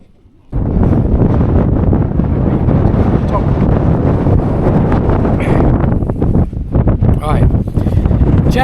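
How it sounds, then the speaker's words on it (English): Strong wind on a hilltop at a wild camp buffets the microphone in a continuous loud roar after a brief quiet start, with gusts rising and falling. "a bit windy up here"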